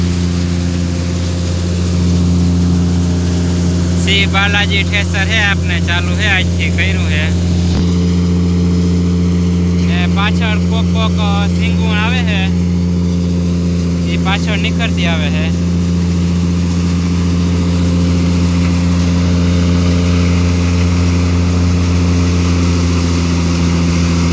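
A Shree Balaji thresher threshing soybeans in a field: a loud, steady diesel-driven mechanical drone runs throughout without letting up, and people talk over it in several short bursts.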